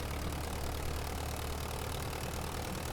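Aircraft engine idling at low throttle in Microsoft Flight Simulator, a steady broadband drone with a low hum that holds constant throughout, close and even with no speech.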